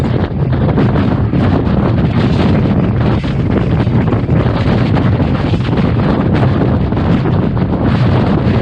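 Strong, steady wind on a snowy mountain in winter, roaring loud and unbroken as it buffets the microphone close up, with no voices.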